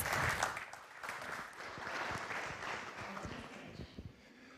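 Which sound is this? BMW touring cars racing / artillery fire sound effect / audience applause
audience applause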